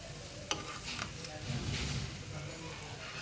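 Instant noodles stirred with spice powder in a pan, a soft scraping and light sizzle with a sharp clink near the start, faint and steady under low background murmur.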